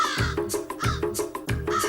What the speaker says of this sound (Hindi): तेरे चीख से कौवे उड़ गए।